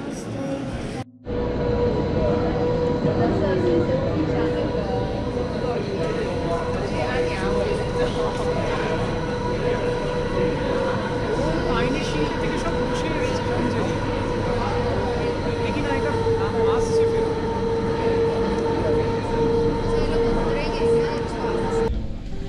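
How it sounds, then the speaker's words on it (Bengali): Inside a Swiss mountain railway carriage climbing toward Jungfrau, a steady low rumble of the running train fills the background while people talk over it throughout. "আমরা এখন ট্রেনে বসে পড়েছি"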